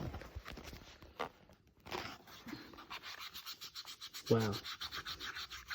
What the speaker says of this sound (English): let's see if we can get it off with a magic eraser